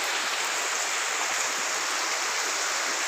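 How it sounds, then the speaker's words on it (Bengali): Floodwater rushes strongly in a steady, dense roar that stays loud and unbroken throughout, with no voices over it. "পানি অনেক জোরে জোরে হচ্ছে"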